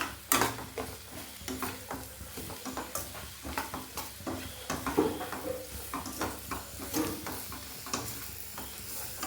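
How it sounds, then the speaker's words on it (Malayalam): Jackfruit pieces sauté in hot oil for a pickle, giving a steady close sizzle broken by repeated scraping stirs and light clicks against the pan. "ഈ എണ്ണയിലിട്ടിട്ട് നന്നായിട്ട് വാട്ടിയെടുക്കണം"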